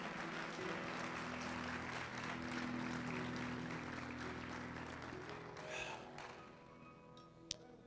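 Congregation clapping in a church service, a steady dense wash of applause under a faint hum that thins out toward the end, with one sharp tap near the close.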